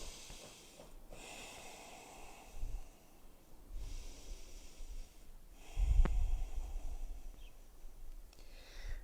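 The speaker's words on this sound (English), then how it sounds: "Breathing here." Slow, audible breaths during a calm yoga session come in soft, airy waves several seconds apart, each drawn in and released gently, close and fairly faint in a quiet room.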